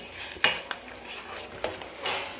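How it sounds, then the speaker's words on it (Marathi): A spoon stirs tamarind and jaggery chutney in a metal pan, making a few distinct close scraping clinks at irregular intervals over a quiet background. "कंटिन्यू ढवळत राहायचं याला"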